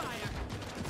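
A dense, steady rattle of rapid gunfire from the battle royale game Realm Royale runs through a short moment, close and fairly even in loudness.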